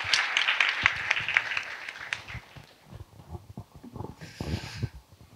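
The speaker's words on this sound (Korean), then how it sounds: "박수 부탁드립니다." A small audience at a university lecture on ChatGPT claps briefly to welcome a professor, scattered applause that quickly thins into a few isolated claps and shuffling noises.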